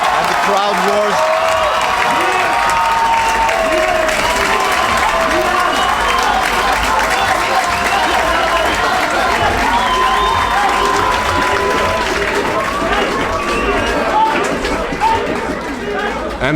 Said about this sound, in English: Frank claps and the crowd roars.